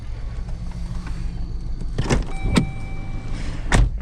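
A 2015 Dodge Journey reverses into a parking space, its engine a low steady hum heard from inside the car, with a few sharp clicks and brief mechanical thumps.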